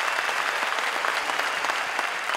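A live stage-show audience claps steadily and loudly throughout, a dense unbroken wash of applause with no talking over it.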